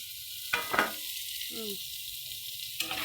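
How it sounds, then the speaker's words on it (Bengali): Ridge gourd with green chillies in a frying pan gives a soft, faint sizzle broken by a few scraping stirs and clatters of a utensil against the pan, with no talk. "ঝিঙ্গাটাকে নেড়ে দিলাম"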